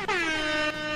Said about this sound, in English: Wait, I have an air horn.